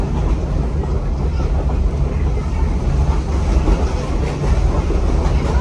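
A loud, steady rumble of steam locomotive Southern 630 pulling a train fills the clip, with a constant roar and faint rhythmic clatter from the rails.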